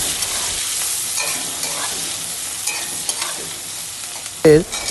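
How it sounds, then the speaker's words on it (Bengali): Onions frying in hot oil with Bengali five-spice, bay leaf and green chillies, a steady close sizzle with occasional stirring scrapes and a sharp louder clatter near the end. "তার মধ্যে দিয়ে দিয়েছি 5 ফোড়ন, তেজপাতা, পেঁয়াজ আর কাঁচা লঙ্কা। লাল লাল করে প্রথমে ভেজে নেব।"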